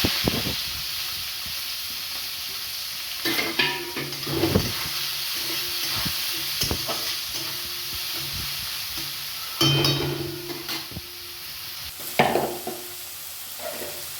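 Sliced onion sizzles in hot oil with cinnamon, dried chilli, cardamom and cumin for chicken dak bungalow, a steady close hiss broken by occasional louder bursts and spatula stirring scrapes, with no talking.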